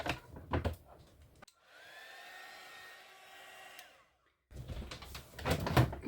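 A hair dryer blows close by for a few seconds to dry paint on an altered book page, a steady whooshing hum framed by louder handling noises before and after.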